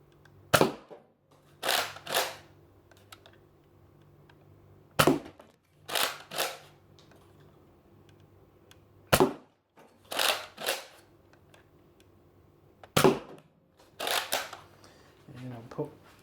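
Nerf DL44 blaster shooting standard Elite darts: sharp, close snaps come in small clusters of two or three, spaced by quiet gaps, with a faint low hum between shots.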